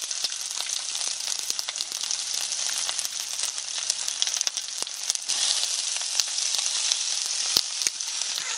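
Chicken frying in a pan with some water in it, a constant crackling sizzle with sharp pops and spits throughout.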